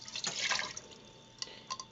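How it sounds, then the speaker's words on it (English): A cup of water poured into a cooking pot for Sierra Leone-style seafood okra soup, a brief soft splashing pour followed by a few faint drips, quiet and close. "I'm just gonna pour 1 cup of water."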